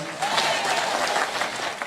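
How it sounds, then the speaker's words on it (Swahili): A church congregation at PCEA Mwiki applauds a politician as she is introduced, a dense, lively burst of clapping with crowd murmur, loud and continuous. "Mpigieni makofi."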